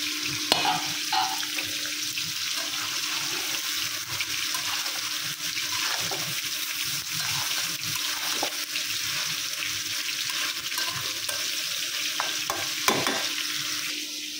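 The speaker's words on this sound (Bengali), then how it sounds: "অলরেডি মাছ ভাজাটা বসাই দিচ্ছি, আর পাশের চুলাটা এই যে মিষ্টি কুমড়াটা দিয়ে দিচ্ছি" Fish frying in a pan on a kitchen stove, with a second burner cooking sweet pumpkin alongside; a steady, continuous sizzle and hiss holds at an even level throughout, with a few brief clicks and scrapes and no talking.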